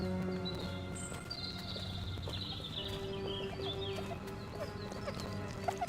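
Faint horse sounds, with clip-clop and whinny-like tones, come from a television inside the video game Destroy All Humans! (2020). They sit low in the mix under a steady hum of game ambience.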